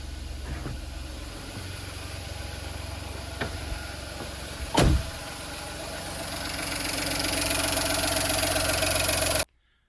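A Volkswagen Fox engine with an engine management light on idles steadily at close range with a faint tappet ticking, a brief louder clatter midway, and rising hiss before it cuts off.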